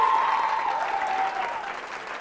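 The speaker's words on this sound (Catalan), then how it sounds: "Un aplaudiment per ells, sisplau" Applause for a school quiz team at a televised Catalan competition, a steady even patter of many hands sustained throughout with a faint tone drifting underneath.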